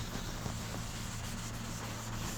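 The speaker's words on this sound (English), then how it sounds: "Now it's time for clarifying compound." Clarifying compound is rubbed by hand onto a car headlight lens, a soft, continuous close-up scrubbing with a faint low hum underneath.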